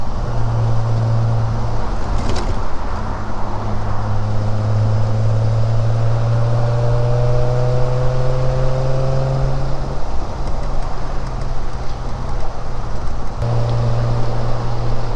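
A 1971 Triumph Vitesse Mk 2 engine pulls steadily in third gear, a loud, continuous droning hum from inside the car whose pitch slowly rises and settles, with no voices.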